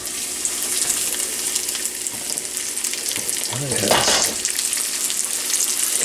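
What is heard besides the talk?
fish fillets frying in hot pan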